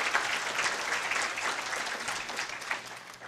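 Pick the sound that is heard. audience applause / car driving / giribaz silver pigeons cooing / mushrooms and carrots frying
audience applause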